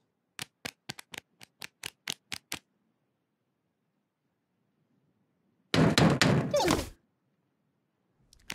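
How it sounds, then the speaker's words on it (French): A quick series of about nine sharp knocks on a door, evenly paced, followed by silence and then a brief burst of louder rattling noise. "Quelqu'un frappe à la porte."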